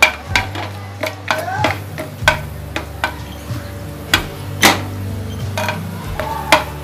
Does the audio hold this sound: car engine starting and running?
no